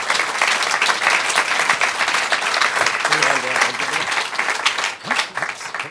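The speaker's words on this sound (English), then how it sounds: "everybody, round of applause for these three guys." Enthusiastic audience applause in a conference session on the beer business, thick overlapping clapping from a crowd with a few faint voices and cheers mixed in, sustained throughout.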